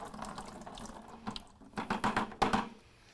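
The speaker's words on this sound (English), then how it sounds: "simply pull out the tray, and you can dump out the water into the sink" Water from the drip tray of a Gaggia Classic Pro espresso machine poured into a sink, a close, uneven splashing and trickling that swells into louder gushes near the end.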